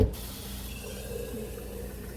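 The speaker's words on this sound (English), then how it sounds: "I'm gonna put a little bit of water in this jar" Water pours into a jar in a home kitchen with a soft, continuous trickling rush, faint and close, lasting only a couple of seconds.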